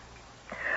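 A single short sneeze in a radio drama set in a dusty attic, a quick breathy burst that builds at the end, close and fairly loud with no speech over it.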